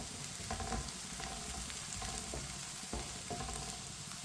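Chopped onions frying and browning in a pan of oil, a continuous crackling sizzle broken by scraping thumps as a spoon stirs them several times, close and loud with no talk.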